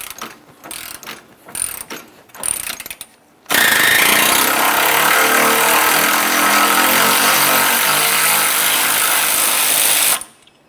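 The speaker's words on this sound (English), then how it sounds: "We'll use our 12mm to remove this mounting bolt." A 12mm socket on a ratchet loosens the horn mounting bolt on a 2004-2006 Scion xB, a loud continuous mechanical rattling grind lasting several seconds after some brief clicks and handling noises.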